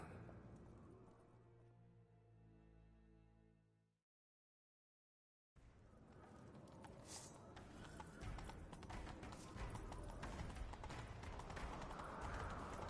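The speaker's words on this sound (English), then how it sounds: "Grab a horse, we'll chase him down." Horses gallop in a video game, a rapid clip-clop of hooves that starts with a low rumble, breaks off into brief silence, then resumes louder and denser with scattered sharp taps.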